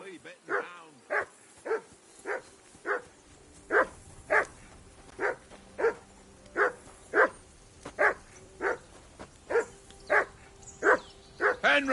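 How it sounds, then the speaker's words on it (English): Dog barking in the video game Kingdom Come: Deliverance 2, a long run of about twenty sharp, evenly spaced barks at a steady rhythm, moderately close and alone. "That barking was a pain in the ass."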